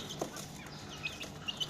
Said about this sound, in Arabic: وعندنا هذا الدجاج الباروني